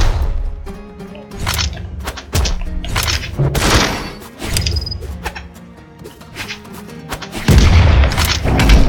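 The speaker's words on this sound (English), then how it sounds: "It's them damn bombs." Video game bombs going off as a series of heavy booms and thuds, loud and irregular, each one separate, with a final big blast near the end.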